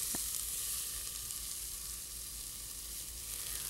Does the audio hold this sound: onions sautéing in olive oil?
yes